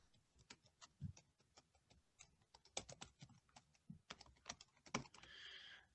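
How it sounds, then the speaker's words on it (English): Quick bursts of keystrokes on a computer keyboard clatter in irregular runs, fairly faint and close, with no one talking over them. "I'll type that out there."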